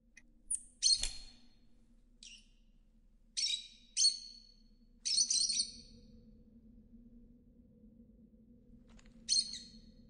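Bird calls in the video game Virginia: short bright chirps and trills in separate bursts across the clip, over a steady low hum of ambient background.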